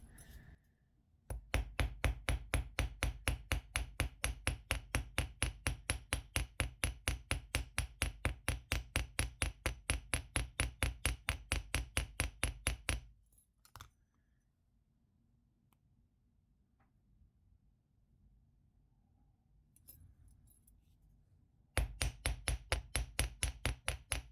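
Copper wire struck flat for handmade heart jewelry with a hammer: a long run of steady, evenly spaced metallic blows, close and loud, then a pause with faint handling before the rapid hammering resumes.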